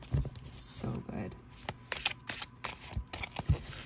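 Close, crisp tarot card shuffling with rapid riffles and soft taps in an uneven rhythm, a voice speaking faintly underneath.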